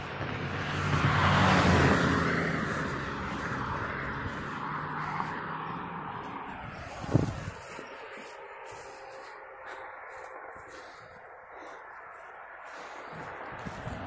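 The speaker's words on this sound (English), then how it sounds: "One car was coming up that street." A single car passing on a quiet suburban street outside Philadelphia during lockdown: a faint engine and tire rush swelling from a distance, peaking early and fading away, followed by quiet outdoor ambience.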